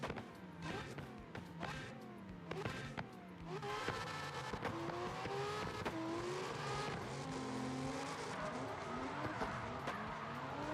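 Corvette race car in CarX Drift Racing Online 2, the engine revving and climbing through gears with tire squeal, loud and continuous, with sharp throttle blips and downshifts early on.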